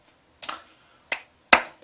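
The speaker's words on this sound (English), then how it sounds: "Why am I clapping and talking at the same time?" Three sharp hand claps from a man reviewing a film, spaced unevenly and close, with near silence between them.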